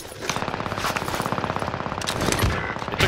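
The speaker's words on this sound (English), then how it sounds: "It took that many shots to kill Trey." Rapid automatic gunfire in a shooter video game, a fast even stream of sharp shots close by, sustained for the whole stretch with a heavier burst near the end.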